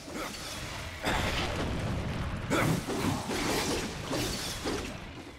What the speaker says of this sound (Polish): To wybucha.